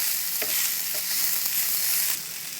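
Vegetables with crushed pepper and garam masala sizzle in a frying pan while a spoon stirs and scrapes through them, a close, steady hiss with a few soft knocks and no voices.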